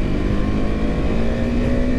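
A motor vehicle being driven nearby gives a loud, steady engine drone with a sustained tonal hum and no pauses, heard with no talk.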